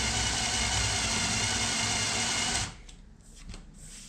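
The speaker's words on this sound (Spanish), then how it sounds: "nuestro taladro" A power drill bores a hole for furniture assembly screws, a loud steady whine that runs for about two and a half seconds and then cuts off, leaving faint handling noises.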